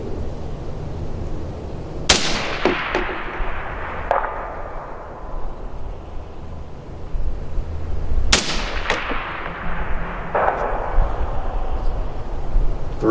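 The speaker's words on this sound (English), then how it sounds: "Three shots." Rifle shots from an AR-15 chambered in .22 ARC at a long-distance range, two sharp loud cracks spaced several seconds apart, each followed by a long rolling echo.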